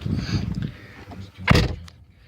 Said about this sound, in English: I have to shut the door.